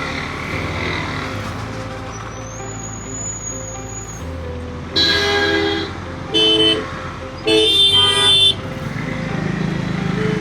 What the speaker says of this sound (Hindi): अरे रे भाई साहब देखो जाम, कैसे निकलेगी गाड़ी अब?